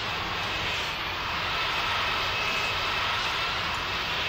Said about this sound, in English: All four engines starting.